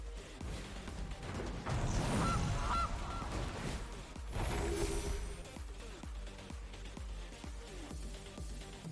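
A goose honks as a creature card effect in the MTG Arena card game, loud bursts over layered game music and clattering interface sounds, with no talk.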